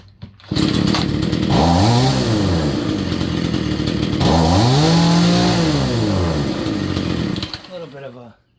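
A Remington chainsaw engine, after a repair, roars close by, revving up and down twice in long sweeps with a slight bog before cutting off.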